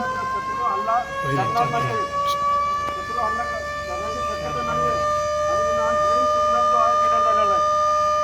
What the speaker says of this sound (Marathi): हे दोन्ही सायरन दोन मिनटं वाजतात